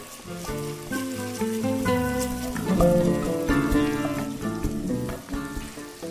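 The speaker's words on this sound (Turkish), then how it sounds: "Daha önceden rendelediğim havuçları ilave ediyorum biraz kavurma işlemini yapıyorum." Steady crackling sizzle of grated carrots sautéing in a hot pan, continuous and fairly close, with light scraping and clinking from stirring.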